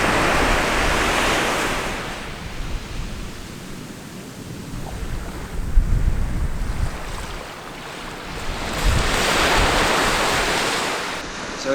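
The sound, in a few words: sea waves at a sheltered beach in Australia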